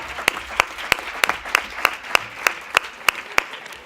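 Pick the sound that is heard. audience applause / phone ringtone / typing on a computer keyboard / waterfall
audience applause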